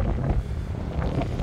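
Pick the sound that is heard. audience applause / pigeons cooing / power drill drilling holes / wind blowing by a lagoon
wind blowing by a lagoon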